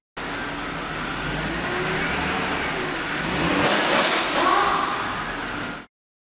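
A BMW 3 Series engine with a suspected intake camshaft position sensor fault (P0340) revs up and down steadily, close by, with the pitch rising and falling over several seconds and no talking.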